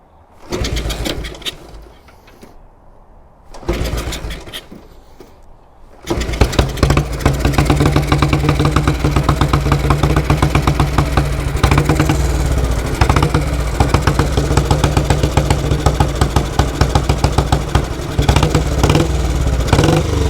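A 1938 AJS Model 22 250cc motorcycle is kicked over a couple of times with short sputters, then fires and settles into a loud, close, steady thumping idle.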